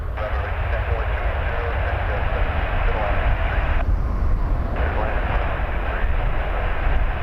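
A WestJet airliner departing Toronto Pearson for Glasgow, a loud continuous engine roar throughout with a brief dip in the upper hiss midway, while a voice talks over it.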